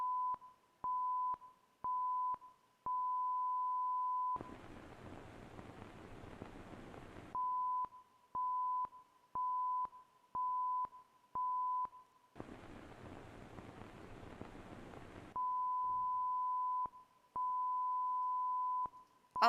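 White Day 2 horror game Morse code: a pure electronic tone pulses in short dots and longer dashes, broken twice by a few seconds of static-like noise, steady and fairly faint with no voices.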